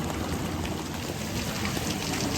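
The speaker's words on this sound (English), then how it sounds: "it's still raining, but that don't stop the clock" Rain falls outdoors during a Louisiana crawfish boil, a continuous broadband hiss at an even, fairly loud level with no talking.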